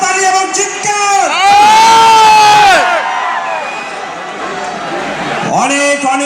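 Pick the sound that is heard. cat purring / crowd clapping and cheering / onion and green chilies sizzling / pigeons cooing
crowd clapping and cheering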